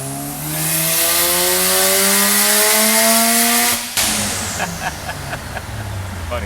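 A Mazda FD RX-7 rotary engine screams under load on a dyno, its pitch climbing steadily for several seconds before an abrupt cutoff, then a lower burbling idle with pops, loud and close.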